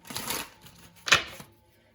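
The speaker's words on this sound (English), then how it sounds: "let's get another shuffle here, because a stack of cards flew out" Tarot cards being shuffled, giving two papery riffling bursts with a brief pause between them, close and fairly quiet.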